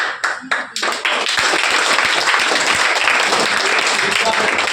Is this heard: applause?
yes